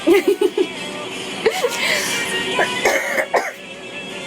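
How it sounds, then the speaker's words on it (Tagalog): A person coughs and clears their throat during a TikTok live stream, several short coughs in a quick burst, then more scattered coughs and breathy sounds close to the mic as someone talks. "Inuubo na ako."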